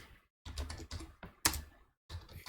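Keys clack on a computer keyboard in quick bursts of typing as an SQL query is entered, close and clear, with short pauses between runs and one sharper key strike.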